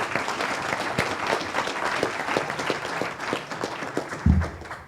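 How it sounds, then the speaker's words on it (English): Audience at a voter education and candidate forum applauding the panel of candidates, steady mid-distance clapping from a moderate crowd that holds for several seconds before a brief low bump near the end. "let us all applaud the answers they gave to the questions"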